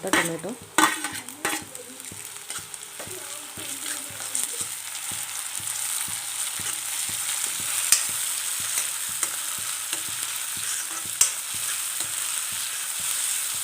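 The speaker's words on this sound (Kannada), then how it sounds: "ಟೊಮೆಟೊ ಹಾಕಾಕತ್ತೀನಿ ಸಣ್ಣದ ಕಟ್ ಮಾಡಿ ಟೊಮೆಟೊ" Finely chopped tomato for North Karnataka style togari bele palya fries in a pan with a steady sizzle, while a spoon scrapes and stirs in quick, regular strokes close by.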